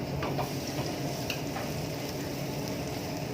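Garlic sautés in half a cup of olive oil for a seafood marinara sauce, making a dense, even sizzle and hiss with faint ticking spatters. The sound is close and unbroken, and no one speaks over it.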